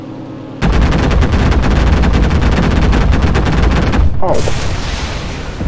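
Gunfire in the WWII shooter game Enlisted: a loud, dense burst of rapid automatic shots that hammers on for several seconds, then breaks off into a brief explosive, whistling aftermath, with a short spoken exclamation near the start.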